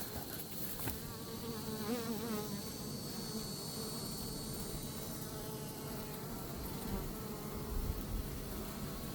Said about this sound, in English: Some bees emerging.